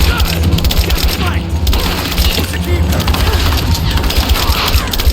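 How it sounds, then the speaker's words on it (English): Heavy gunfire aimed at the player in the Tomb Raider video game: dense, continuous volleys with booming low end that stay loud and close throughout, with no pauses. "I'm taking fire!"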